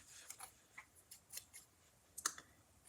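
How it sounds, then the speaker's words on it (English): Hand snips cut straight across crafting paper in a series of faint, crisp, irregular snips and clicks, close by in a quiet room. "I'm just going to take my snips and I'm going to cut straight across"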